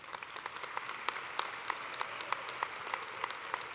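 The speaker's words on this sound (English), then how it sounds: "Please join me in a round of their applause." Light, scattered clapping from a modest audience at a spring nursing convocation ceremony, individual claps distinct and fairly soft, continuing evenly without voices.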